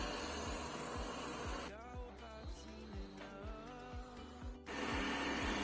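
Ecovacs N8+ robot vacuum mop working in circular mode, a steady whirring motor hum with a regular ticking pulse underneath and a change in pitch partway through, close and moderately loud.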